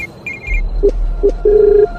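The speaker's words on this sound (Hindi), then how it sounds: "फोन उसी मिट्टी के कमरे के अंदर बज रहा है" A telephone ringing inside a mud-walled room, with repeated short electronic ring tones in bursts, fairly close and clear over a quiet background.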